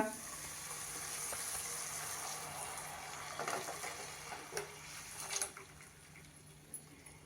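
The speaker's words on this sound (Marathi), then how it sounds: "आता आपण गरम केलेलं दूध यामध्ये घालूया" Heated milk poured into a pan of cooking carrots for carrot rabdi, giving a steady sizzle and bubbling with a few louder splashing bursts near the end, heard up close with no talk.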